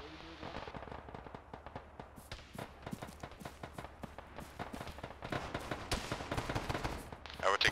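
Scattered bursts of gunfire in the military shooter Arma, sharp cracks and short rapid volleys at varying distances, growing denser and louder toward the end, with faint radio-style voices underneath.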